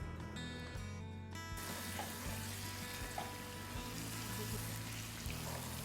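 Halwa cooks in ghee over a low flame, a faint, steady sizzle and bubbling with soft scraping and a quiet hum beneath, with no talking.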